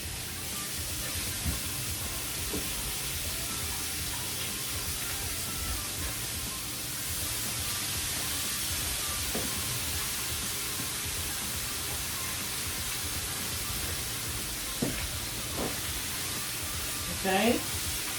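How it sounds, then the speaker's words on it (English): Hamburger patties sizzling in a hot pot, a steady broadband frying hiss running throughout at moderate level, with occasional small pops and clinks near the end. "You guys hear it frying?"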